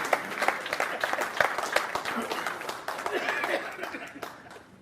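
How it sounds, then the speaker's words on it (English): An audience applauds a guest being called down at a senior tour panel discussion, with scattered clapping, a few chuckles and some voices mixed in, steady through the clip before fading at the end. "And let's give her a round of applause as she comes to be our first guest over here."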